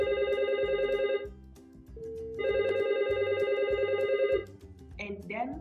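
A Flyingvoice desk phone rings for an incoming call on a 3CX PBX system. Two loud, steady electronic ring bursts are separated by a short pause, followed by a brief warbling tone at the end.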